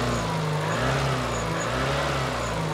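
A Peugeot 205 prepared for a rally raid to Morocco runs its engine at sustained high revs, loud and close with a steady droning hum and no speech.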